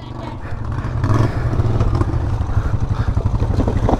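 A four-wheeler ATV engine runs close by with a rough, pulsing clatter that builds in loudness and holds steady.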